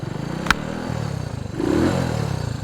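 A 1967 Honda S90 motorcycle engine idles after being kick started, with a steady, close, putting single-cylinder rhythm that rises briefly as the throttle is blipped, preceded by a sharp mechanical click.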